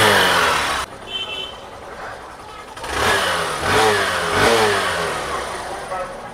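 Hero Super Splendor BS6 motorcycle engine running after a mileage adjustment, idling then revving up and down in several rising swells, loud and close.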